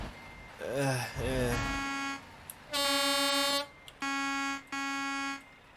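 Air horn on a truck in Euro Truck Simulator 2, blaring in three loud separate blasts, the last two with a short gap between them, after a stretch of voices and a rising whistle-like sound at the start.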